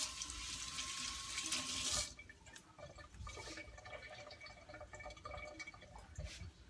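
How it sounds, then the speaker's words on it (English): Running tap water splashes over hands being rinsed in a sink, a steady hiss for about two seconds, then quieter trickling and dripping. "I'm going to rinse my hands."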